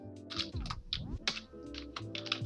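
Typing on a computer keyboard while entering a search into Google Chrome, with a quick run of close, clicky keystrokes in an irregular rhythm and no speech.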